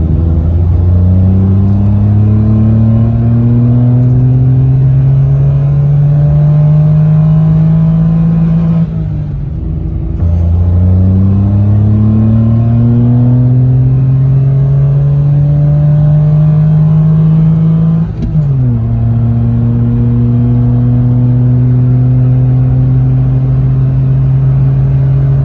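A Citroen C1 engine fitted with a cone air filter revs up steadily and loud, its pitch climbing in three long sweeps with short dips between them. No one speaks.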